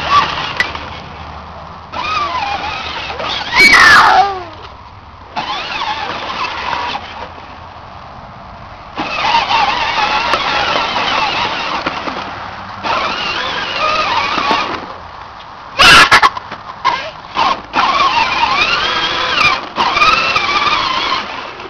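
A child's battery-powered John Deere ride-on toy tractor drives in short bursts. Its electric motor gives a whining hum that starts and stops repeatedly, with a few sharp clicks between runs.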